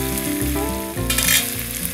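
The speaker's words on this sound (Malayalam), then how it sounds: "കഴിഞ്ഞാൽ നമ്മൾ ഡ്രൈ ഫ്രൈ ചെയ്യാൻ പോവാണ്" Chicken dry-frying in oil with soy sauce, ketchup, garlic and chilli sauce sizzles loudly and continuously. A low rhythmic hum and scraping stir sounds run beneath it.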